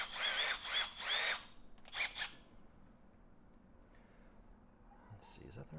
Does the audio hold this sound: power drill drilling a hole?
yes